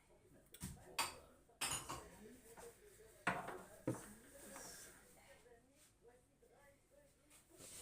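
Plates and cutlery clatter and clink in sharp bursts, close by, with a few louder crashes as a person talks quietly underneath.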